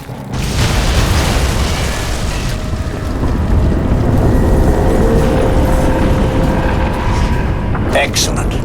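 A large explosion in the video game Crysis 2 Remastered: a loud, sustained booming roar with dense rumbling that holds for several seconds before cutting off abruptly.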